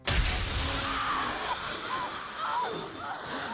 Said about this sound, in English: The mirror broke and now it's back to normal again.